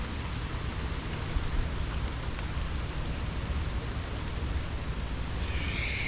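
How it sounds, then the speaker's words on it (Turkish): Steady, soft rain hisses evenly throughout with no voices, a gentle continuous patter, on Koh Tao island, Thailand. "Evet şu anda yağmur bir tık yavaşladı."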